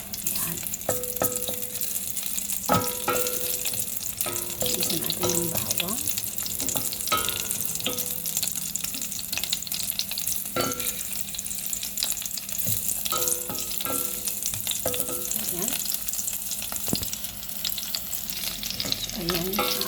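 Plenty of garlic sizzles in hot oil in a pan for pork adobo, a steady crackling fry broken by irregular scraping stirs and clinks, with no talking.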